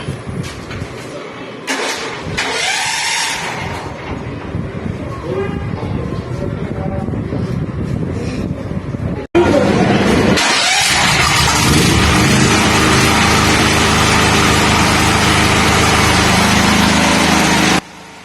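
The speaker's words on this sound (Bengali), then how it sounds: "আমরা জেনারেটারটাকে চালু দিয়ে একদম ক্লিয়ারলি দেখে নিলাম" A Walton E8000 generator cranks and fires up, a loud broadband engine roar that holds steady after a brief break, running continuously before cutting off at the very end.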